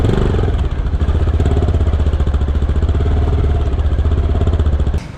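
A motorcycle rides out with its engine running loud and close, a steady throbbing drone holding for several seconds before cutting off abruptly near the end.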